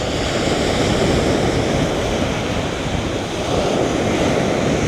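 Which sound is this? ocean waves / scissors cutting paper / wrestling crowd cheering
ocean waves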